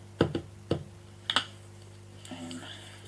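A rubber stamp pressed onto paper during cardmaking with Gelli prints, heard as a few sharp close taps and thumps in a quick cluster, followed by a soft rustle of paper.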